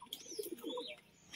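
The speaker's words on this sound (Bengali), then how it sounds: "এটা নর পায়রা, নর পায়রা, ঝামর বলে" A male pigeon of the jhamar type gives a short, soft coo, brief throaty notes close by in a quiet space.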